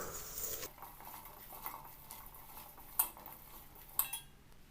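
Cauliflower pieces being mixed by hand with chili powder, turmeric and salt in a metal bowl or vessel, soft rustling and stirring with a couple of sharp metallic clinks, close and quiet, no talk.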